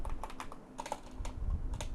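Quick, light clicks of typing on a computer keyboard, a handful of irregular keystrokes in short bursts, close and fairly quiet with no talking.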